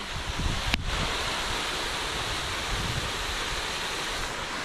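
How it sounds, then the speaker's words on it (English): Water pours steadily from a big pipe into a waterfall on an autumn hike, a constant broadband roar heard up close, with a brief knock near the start. "There's the waterfall with the big pipe coming out of it"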